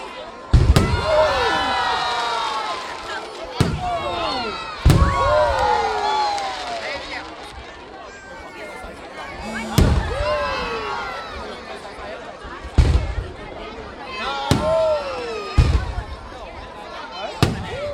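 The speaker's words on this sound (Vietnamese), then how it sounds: "Pháo hoa đấy." Fireworks burst outdoors in sharp, loud booms spaced irregularly every few seconds, while a crowd chatters, exclaims and cheers throughout.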